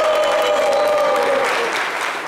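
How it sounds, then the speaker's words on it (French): A studio audience claps briskly for a game segment on a talk show, a short burst of mixed applause with a held musical tone sliding beneath it before tapering off. "Applaudissons pour le jeu, s'il vous plaît."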